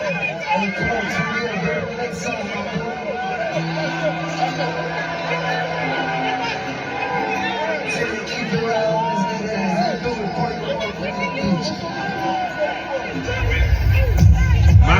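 Concert crowd at an NBA YoungBoy show, a dense hubbub of many voices chattering and shouting continuously, swelling louder toward the end.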